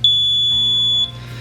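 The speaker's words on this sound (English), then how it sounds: "but that beep, that was the piezo." An alarm panel's piezo sounder gives one loud, close, shrill beep of about one second, then cuts off into quiet room noise.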